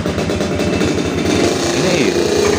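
A motorcycle being started by hand, its engine rapidly chugging and pulsing in an even beat, fairly loud and close, while someone talks over it.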